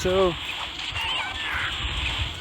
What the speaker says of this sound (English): the cat apparently decided to start meowing at me